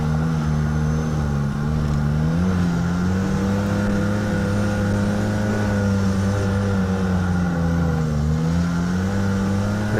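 Snowmobile engines rev and drone continuously at a mountain hill climb, a loud, steady roar with rising and falling pitch and no talk over it.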